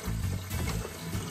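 White vinegar pours from a bottle in a kitchen while hog maws and chitterlings are being cleaned, giving a continuous, gurgling liquid splash heard up close for just over a second.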